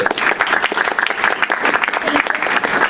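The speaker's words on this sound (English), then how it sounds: "Let's give our applause to our presenter." A cinema club audience applauds a presenter after a film presentation and Q&A, loud, dense clapping close by that holds steady throughout, with voices mixed in.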